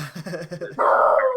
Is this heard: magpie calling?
no